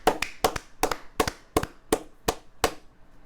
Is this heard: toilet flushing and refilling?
no